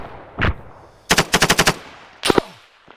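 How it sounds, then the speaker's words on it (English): Close, loud bursts of automatic gunfire in the ARMA 3 military shooter: a single shot, then a rapid run of about six rounds, then another short burst, with quiet gaps between. "Someone's shooting close."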